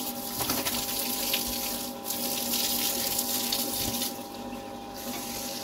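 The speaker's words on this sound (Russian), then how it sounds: "Мы в свинарник налили воды." Water gushes steadily from a hose or tap into a village pigsty, a continuous rushing pour with slight changes in force, likely mixed with a faint pump hum and no talking.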